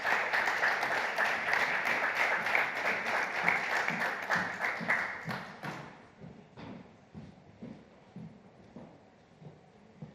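Audience applauding to welcome the CEO of E.L.I. Productions at a women in entrepreneurship session, dense clapping that thins after about six seconds into scattered claps and thumping footsteps or taps.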